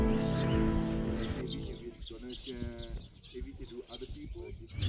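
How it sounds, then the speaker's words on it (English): Birds chirp and sing in Tibet, bright short calls and trills scattered over the scene, fairly clear and close, mixed with other ambient noise and a voice talking. "The birds chirp so loudly, clearly, and happily here."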